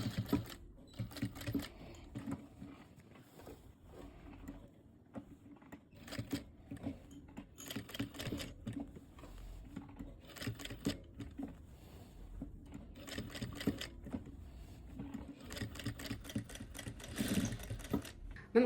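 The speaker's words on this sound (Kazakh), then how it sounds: "Замокты жабамыз да тура мына закрепка берген жерге тағы да закрепка беріп" A sewing machine stitches a zipper and backtacks on culotte shorts in short, close whirring runs broken by brief pauses, with no one talking.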